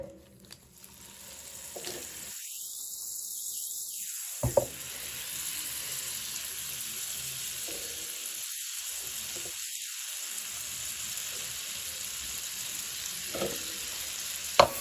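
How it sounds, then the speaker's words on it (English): Six tablespoons of butter melt in a small skillet for homemade bolognese, giving a faint, steady sizzle that runs throughout with a few soft clicks, close up and with no talking. "We're going to add 6 tablespoons of butter to our little skillet here."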